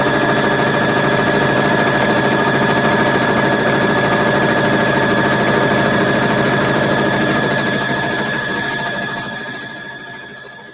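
A home sewing machine runs continuously and loudly with a steady mechanical whir and rapid needle rhythm, slowing and fading toward the end.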